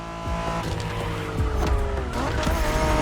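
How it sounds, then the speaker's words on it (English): A Honda NSX from the 1990s races in The Crew Motorfest, its engine loud and close with shifting revs and tire squeal as it drives hard, with no talk. "Are you familiar with the Honda you're driving?"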